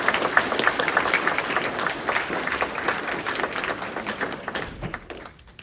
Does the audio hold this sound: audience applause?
yes